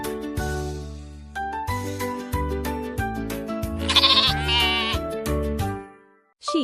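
A sheep bleats several times in a calm farm setting, with repeated wavering cries standing out loud and clear, then a short quiet gap before one more sound at the end.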